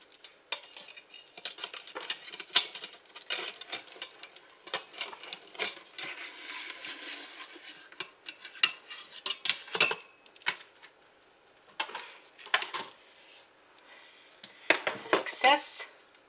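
Metal tongs clink and scrape against the inner pot of an Instant Pot while an apple dump cake insert is lifted out, a run of sharp, close metallic taps and rattles coming in bursts.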